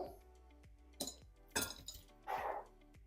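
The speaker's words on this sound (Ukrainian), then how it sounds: "Другий салат перемішую, викладаю тарілочку" Salad of tomatoes being tossed and plated in a home kitchen, with a few separate clinks of utensils against a dish and a brief scraping rustle, quiet and close with no talking.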